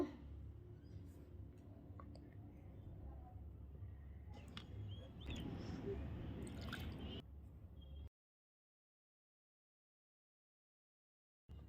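Wet squishing and dripping sounds of potato bajji batter being mixed with water by hand, soft and close, swelling in the middle before falling silent.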